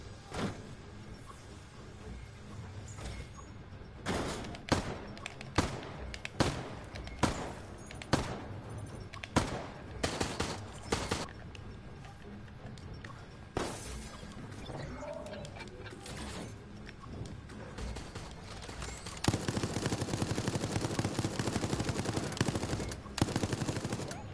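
Gunshots ring out in Resident Evil Resistance as security cameras are shot at, with sharp single shots spaced irregularly and then a dense, sustained burst of fire near the end.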